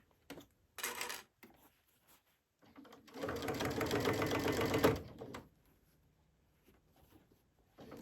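A sewing machine stitches a seam on a duffel bag, with a short burst, a pause, then a longer steady run of rapid needle clatter before stopping, followed by quiet handling noises.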